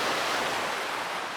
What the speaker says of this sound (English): I'm gonna get out of the wind. It's very windy.